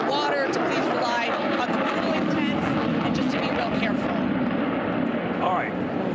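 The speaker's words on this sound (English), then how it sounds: "We're going to wait for that plane to pass by before I ask you this question" An airplane passes overhead at an outdoor July 4th celebration, a broad steady engine roar that fills the scene throughout, loud and sustained with crowd noise beneath.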